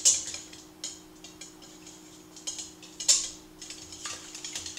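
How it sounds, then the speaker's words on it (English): A whisk taps briskly and irregularly against a mixing bowl as six eggs are beaten for French toast, with sharp bright clicks over a faint steady hum and no talking. "I'm going to whisk these 6 eggs in our mixing bowl"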